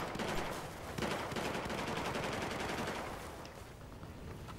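Dense game gunfire from Battlefield 4, rapid automatic bursts and scattered shots crackling steadily throughout, fairly loud and continuous, easing slightly near the end before a sharp final burst.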